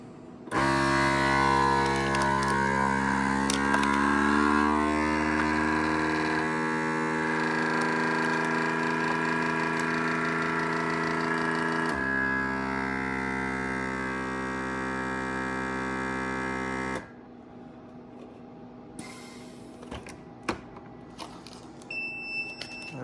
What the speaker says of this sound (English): This is my Cabela's heat sealer.